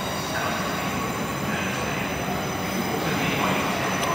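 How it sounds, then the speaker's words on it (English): Train pulling into Bournemouth station on a service to Poole from London Waterloo, a steady, close rumble with a faint high metallic ring running throughout. "coming in now is a delayed 1544 service to Poole, originating London Waterloo"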